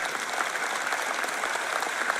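A church audience claps steadily in a dense, even patter of applause for a couple of seconds.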